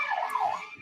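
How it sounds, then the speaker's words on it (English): An ambulance siren passes outside during an outdoor job-fair event in Canada, a steady wailing tone that rises and dips as it goes by, loud and clear with no voices over it. "An ambulance just went by here."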